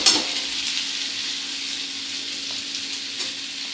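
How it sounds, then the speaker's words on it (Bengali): Potato pieces fry in oil in a pan over a lowered gas flame, giving a steady, soft hiss and crackle with a few light stirring scrapes and no talking. "গ্যাসটা কমিয়ে নিয়ে একটু ভেজে নিতে হবে ভালো করে, যাতে আলুটা নরম হয়ে যায়"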